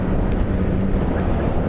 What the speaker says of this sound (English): Even though it's very windy and my bike gets blown left and right.